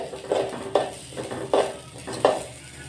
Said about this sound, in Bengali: অল্প আঁচ দিয়ে ভেজে নিচ্ছি, যাতে চালগুলো সুন্দরভাবে ভেজে নেওয়া হয়ে যায়।